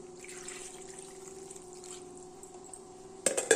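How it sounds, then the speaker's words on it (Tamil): Water from rinsing a mixer jar runs and trickles softly in a steady stream into a pan of butter paneer masala, ending in a brief louder splash, with no talking. "தண்ணி ஊற்றிக்கிறேன்."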